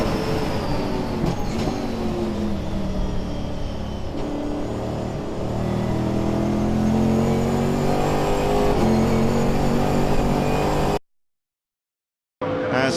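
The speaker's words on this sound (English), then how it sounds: "As Matt Selden accelerates along Bramble Straight for the final time, the checker flag goes out" BMW M3 GTR race car accelerating hard down a straight on a wet track, a loud close engine roar with rising harmonic pitch sweeps and gear changes, continuous for about eleven seconds before cutting out.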